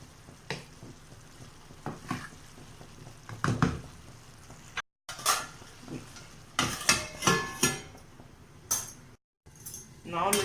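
Tomatoes cooking in a pan for malai kofta are stirred now and then, giving irregular scraping and clinking strokes with a soft sizzle underneath, broken by two brief silences.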